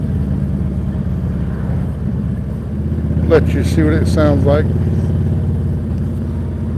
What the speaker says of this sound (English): I'll put the helmet by the exhaust and just do a little rev up on it.